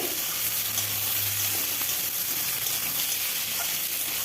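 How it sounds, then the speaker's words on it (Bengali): Ridge gourd and potato pieces frying and being stirred in a hot pan, a steady close sizzle with a low rumble near the start and no talking. "ঝিঙেটা দিয়েও ভালোভাবে নেড়ে দেব"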